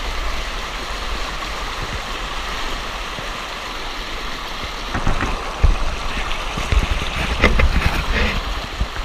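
Fast-flowing, shallow stream water rushing over polished granite while someone wades through it, a steady broadband wash with louder splashy surges toward the end and wind noise on the microphone.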